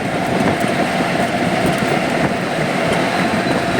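A train rumbles past close by at a railway crossing, a steady loud roar of wheels and carriages with faint rhythmic clatter throughout.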